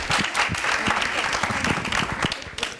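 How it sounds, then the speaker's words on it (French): A studio audience on a French aperitif talk show applauds a guest. Hearty clapping comes close and lively, with some heavier hand claps standing out, and a brief murmur of voices underneath. "On va applaudir pour ce monsieur."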